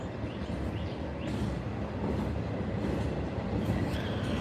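A train with a Penn Central railroad car rolls past at steady, fairly close range, a continuous rumble with faint wheel squeal, heard from a porch and with no talking.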